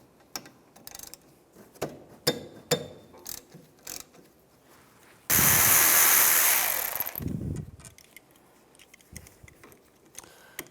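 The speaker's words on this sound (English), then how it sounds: "Using a 13mm socket, we're going to take these two bolts out." Ratchet with a 13mm socket turning the caliper bolts on a 2007-2013 Mini Cooper brake caliper: scattered close clicks and taps, then a loud two-second burst of ratcheting, then more sparse clicking.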